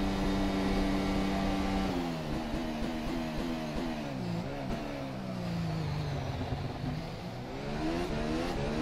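Formula development car from FSR 2018 lapping Monza in rFactor 2, a loud continuous engine whine that shifts up and down through gear changes, sustained throughout without voices.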